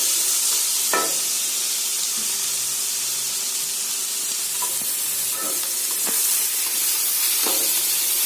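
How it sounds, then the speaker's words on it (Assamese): Ground teasel gourd fries in hot oil in a pan, a steady close hiss and sizzle with occasional stirring scrapes and clinks, no talking. "দুই মিনিটমান ভাজিব লাগিব যাতে ভাত কেৰেলাৰ পানীখিনি ইভাপৰেট হৈ যায়"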